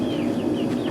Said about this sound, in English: Out here with all the chickens.